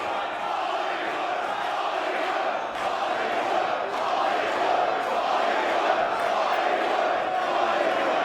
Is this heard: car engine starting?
no